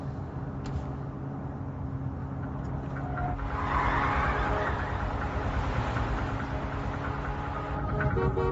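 A car brakes hard and skids in a steady, loud rumble, with a brighter screeching swell of tire noise in the middle and a continuous engine drone throughout.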